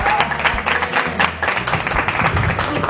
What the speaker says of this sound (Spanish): un fuerte aplauso que nos está acompañando